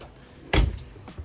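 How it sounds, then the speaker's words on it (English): A sliding door in a Wildwood 26DBUD travel trailer slides shut with one sharp, loud thud, followed by a brief rattle and a faint, smaller knock moments later. "Sliding door here for privacy."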